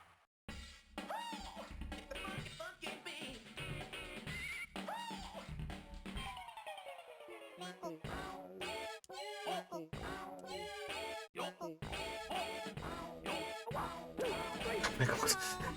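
Meowing cat voices sung as musical notes in a Bandai WonderSwan video game, a dense, busy run of repeated chirpy meows with rising and falling pitches over steady game music, loud throughout.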